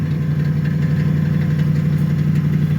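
A Mercury Marauder V8 idles with newly installed exhaust mufflers, a steady, loud, deep rumble holding an even pitch throughout, close by with no talking.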